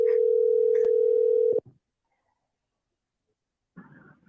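A steady telephone dial tone hums alone for about a second and a half, then cuts off with a click or two, followed by silence before a faint burst of sound at the end.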